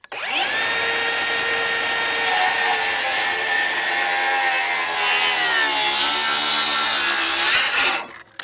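A DeWalt rear handle circular saw rips through wood in one loud, steady cut lasting about eight seconds. The blade whine holds strong and shifts slightly in pitch midway before cutting off abruptly.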